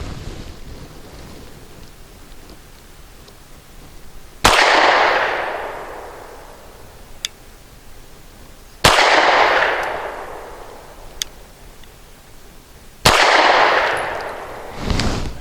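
A Cosaint Arms COS11 pistol fires Winchester Super Clean 90 grain lead-free zinc rounds outdoors: three loud, sharp reports roughly four seconds apart, each trailing a long rumbling echo, with wind noise between shots.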